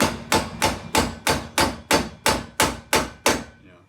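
A hammer strikes metal ten times in a steady, even rhythm while a drift knuckle is fitted onto a Foxbody Ford Mustang, each blow a sharp close clang with a short ringing decay.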